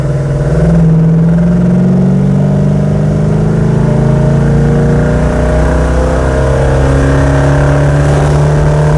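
A car engine fitted with ceramic coated headers pulls hard under acceleration on the road, a loud, close, sustained exhaust drone that climbs steadily in pitch through the revs, with no voices over it.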